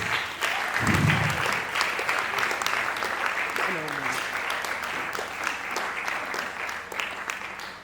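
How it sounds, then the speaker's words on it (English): Sustained audience applause and ovation in a hall at a business talk, dense steady clapping lasting the whole stretch, with a voice briefly speaking over it. "please just keep clapping till they come"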